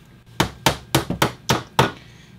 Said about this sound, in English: I gotta get my hammer, tack it in.